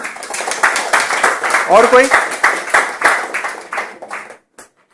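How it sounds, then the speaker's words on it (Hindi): Seminar audience bursting into rhythmic clapping, loud and close, with a speaker's voice briefly over it before it tapers off into silence. "इनके लिए एक जोरदार ताली"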